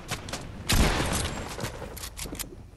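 Video game gunfire crackles in a dense, loud fusillade of rapid shots, with a heavier burst partway through, then continuous sustained firing that tapers slightly near the end.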